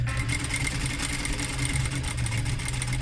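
Bruce R5 sewing machine stitching in manual mode, a steady fast mechanical whirring hum that runs continuously and evenly throughout, close and moderately loud with no talking.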